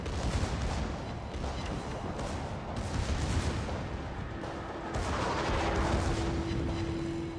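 Naval gunfire from the battleship Iowa in a warship game, heavy booming salvos and rumbling blasts in a loud, dense barrage, with a sustained tone entering partway through.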